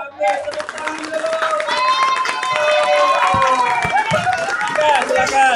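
Students in a classroom clap together in a sustained burst of applause with scattered cheers and voices mixed in, filling several seconds at steady loudness.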